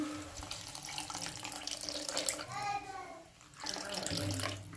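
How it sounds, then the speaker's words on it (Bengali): A small splash of water poured into a pot of katla fish kalia with coriander, a brief running trickle under faint kitchen noise and some quiet background sound. "সামান্য একটু অল্প জল দেবো, বেশি জল দেবো না"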